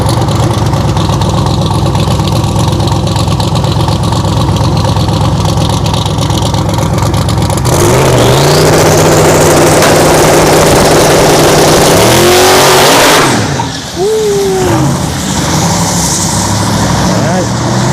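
Loud drag racing car at ShowTime Dragstrip during test and tune, engine rumbling and revving hard before a sharp launch, then the roar sweeps away and fades as the run continues down the strip.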